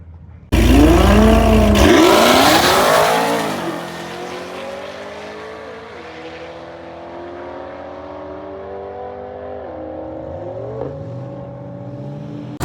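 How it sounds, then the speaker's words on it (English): A drag racing car doing a tire spin, with a loud burst of engine revving and roaring at the start that fades into a lower, steady idle with a few engine pitch changes later on. "I am also videoing his tire spin"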